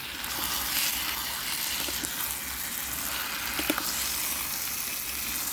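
Steady, close sizzling and crackling of pork stir-frying in a hot pan, continuous throughout with no one speaking.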